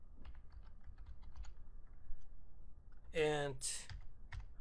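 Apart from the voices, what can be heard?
typing on a computer keyboard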